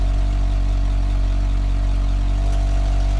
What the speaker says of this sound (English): Does that sound like a good engine to you guys?